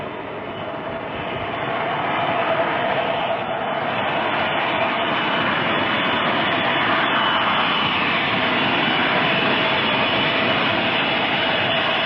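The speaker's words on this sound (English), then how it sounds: "On Air India's Boeing 707, flight" Jet engines of an Air India Boeing 707 roar as a loud, steady broadband rumble heard from inside the aircraft, swelling slightly at first and then holding constant, with no voices.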